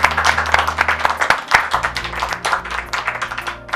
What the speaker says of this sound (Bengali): আমরা উভয় দলকে করতালির মাধ্যমে অভিনন্দিত করতে চাই।